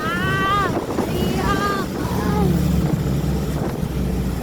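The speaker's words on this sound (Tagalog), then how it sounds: "Ang hangin." Strong wind buffets the microphone in a constant low roar, with voices calling out over it and an engine rumbling underneath.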